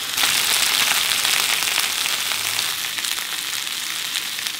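A basil-crusted rack of lamb sears in a new skillet, giving a loud, dense, unbroken sizzle and crackle close up.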